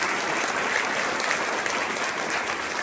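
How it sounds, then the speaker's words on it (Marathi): A school audience at a children's poetry gathering claps for the class teachers, dense steady applause from many hands filling the whole moment at close range. "त्या सर्व क्लास टीचर साठी टाळ्या द्या"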